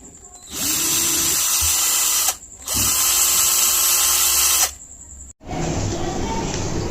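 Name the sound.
keyless drill chuck being tightened on a drill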